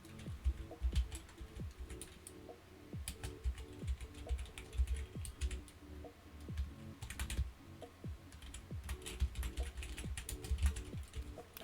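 Computer keyboard typing while writing Python code for a Discord bot: rapid, irregular clicking keystrokes in close bursts, steady throughout with no talk.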